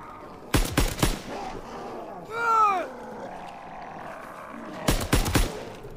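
Gunfire in Call of Duty's zombie mode comes as two short, loud bursts of rapid shots with a growling creature cry between them.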